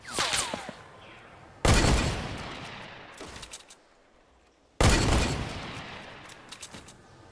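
Two loud, sharp gunshot blasts in Fortnite ring out a few seconds apart, each trailing into a decaying echo, with smaller scattered shots and clatter between them.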